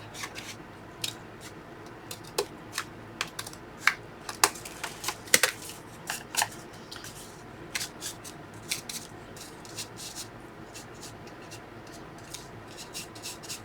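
Scissors cut paper for a junk journal page, giving a series of quiet, irregular snips and crisp paper rustles close by over a faint steady background.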